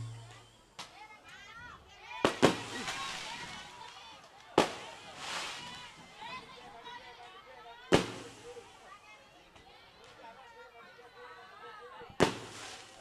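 Firecrackers go off in sharp, isolated bangs, about five loud cracks spread across the span, set in a stage comedy show with voices and crowd noise around them.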